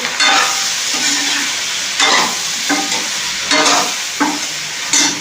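Okra sizzles in hot oil while a spoon stirs it around the pan, a constant close crackle broken by several rhythmic scraping sweeps about once a second.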